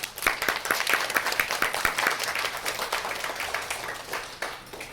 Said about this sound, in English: How about a round of applause, Genevieve?